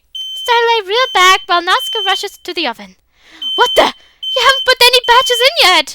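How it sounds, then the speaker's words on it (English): A fire alarm in a visual-novel video game screeches as a steady, piercing, high electronic tone that runs continuously beneath a narrating voice and short exclaimed lines. "The screech of the fire alarm kills the attention immediately."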